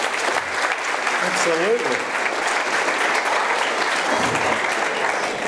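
Applause from a startup meetup audience for a presenter, steady clapping throughout with a brief spoken word and some voices mixed in over it.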